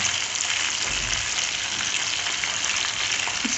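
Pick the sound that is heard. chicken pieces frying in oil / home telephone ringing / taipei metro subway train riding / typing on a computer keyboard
chicken pieces frying in oil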